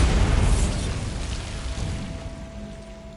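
A Bombarda spell blast in Hogwarts Legacy bursts out loud and close, a broad booming explosion that decays over a few seconds into a rumbling tail with faint lingering tones.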